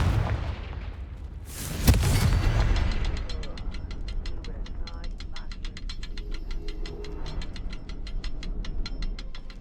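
A Confringo blasting spell in Hogwarts Legacy bursts with one sharp, loud explosion, followed by a long, even series of faint rapid ticks.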